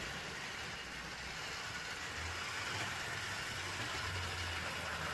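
A Lima Prairie model locomotive runs on track, a steady whirring motor buzz with faint rattling, moderately loud and unbroken, with no voices.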